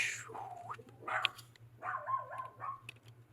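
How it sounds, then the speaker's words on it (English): A dog barks indoors in a series of sharp, yipping barks and whines at moderate distance, over a low steady electrical hum. "My fucking dog's barking."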